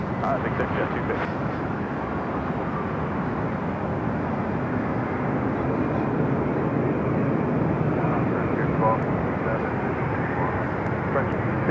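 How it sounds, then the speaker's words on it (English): An Air Premia Boeing 787 Dreamliner jet airliner at Los Angeles LAX airport, a loud, steady broadband engine roar holding throughout, with radio chatter faintly underneath. "up next, Air Premia, the Dreamliner."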